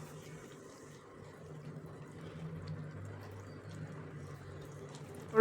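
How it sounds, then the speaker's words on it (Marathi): Water being poured into a jowar flour batter with garlic and turmeric for thin flatbreads, a faint, soft trickle building slowly, ending with a short louder splash. "अजून अर्धा कप पाणी घालायचे."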